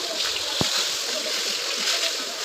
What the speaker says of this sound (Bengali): এই যে পটল ছিল কটা ওইটাই কেটে নিয়ে এই যে ভেজে নিচ্ছি